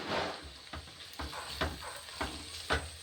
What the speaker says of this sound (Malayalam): പച്ചമുളക്, കറിവേപ്പില ഇത്രയെല്ലാം ഇട്ടൊന്ന് വഴറ്റിയെടുക്കുവാണേ